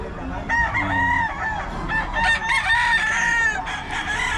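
Gamefowl roosters crowing at a market in Bocaue, several loud, close crows overlapping one another with clucking among them, and no talk.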